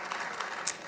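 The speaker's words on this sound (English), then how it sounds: "deserves a round of applause" Brief audience applause at a bilingual business event about the FIFA World Cup 2026, a soft, even patter of clapping heard alone, fairly distant and low in level.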